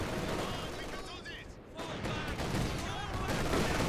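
Rattling gunfire and a sharp sniper shot from the World War II strategy game Company of Heroes 2 crackle continuously through a dense, busy battle mix, with a brief lull before the firing builds again.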